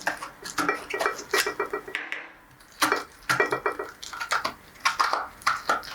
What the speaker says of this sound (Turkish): bir kaşık yardımıyla orta göbeği iyice temizliyoruz.